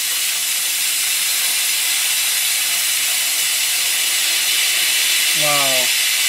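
Compressed air hisses out of an air compressor tank as it is drained, a loud and steady broadband rush that lasts throughout, with a brief voice near the end.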